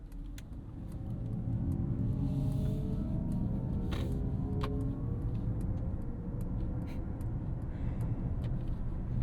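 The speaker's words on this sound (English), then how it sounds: "I do actually kind of like the sound that Mercedes pipes in for this EV" A 2025 Mercedes-AMG GLC 63 S E Performance hybrid emits its synthetic electric drive sound, a soft futuristic hum layered over low road and cabin rumble, with faint ticks scattered throughout while cruising on a morning commute.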